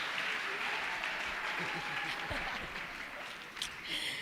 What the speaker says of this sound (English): Please clap hands for me